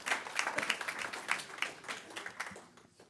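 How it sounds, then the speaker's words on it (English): Scattered clapping from an audience at a board of trustees meeting, fairly faint and distant, with individual claps audible in an uneven patter that tapers off after a few seconds. "So that deserves another round of applause."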